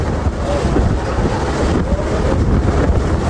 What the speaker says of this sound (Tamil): அண்ணன் கப்பல் ஓட்டிட்டு இருக்காரு